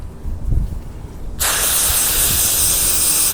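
Throttle body cleaner sprayed onto the throttle body of a Toyota Corolla with a 1.8L 4-cylinder 1ZZ-FE engine: after low rumbling, a loud steady aerosol hiss starts abruptly and runs for about two seconds, close up.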